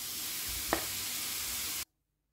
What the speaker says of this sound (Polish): smażymy na złocisty kolor